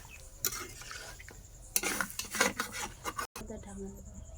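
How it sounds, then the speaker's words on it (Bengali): Beef curry is stirred in a pot after water has been added, giving a few scraping, clinking strokes of a spoon against metal. The sounds are close and fairly quiet and come in short bursts. "জলটা দিয়ে একটু নাড়িয়ে চাড়িয়ে আমি ঢাকনা দিয়ে ঢাকা দিয়ে দেবো।"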